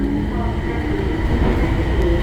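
A Bangkok Gold Line train rumbles steadily while arriving at a station, a low continuous rolling drone heard from inside the car, with a voice speaking faintly over it.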